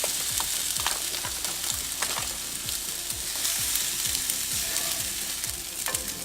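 Spinach and quinoa mixture sizzling in a frying pan as a spoon stirs it, a dense steady frying hiss with repeated scraping strokes, close up and without talk.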